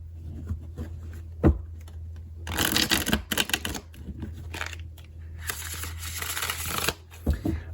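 Tarot de Marseille cards are bridge shuffled nearby in two bursts of crisp riffling and flutter, with small taps and handling clicks between them.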